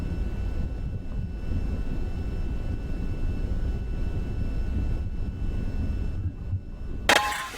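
A jet engine in the VR flight game VTOL VR at full throttle for takeoff down a runway, a steady, loud low roar holding throughout, ending with a sharp bright burst.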